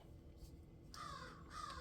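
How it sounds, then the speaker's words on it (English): Two harsh caws from a crow outside, fairly close and distinct, sounding over a quiet steady room hum without any talking. "Oh, the crow's outside visiting."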